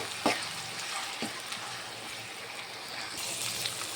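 Onion paste frying in a pan for fish curry, a soft sizzle with a couple of stirring knocks, growing slightly louder near the end.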